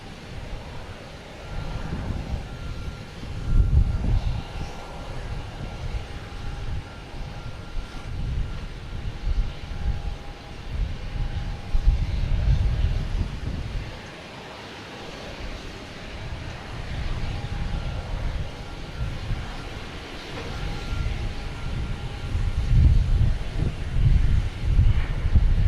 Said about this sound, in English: That was an interesting landing.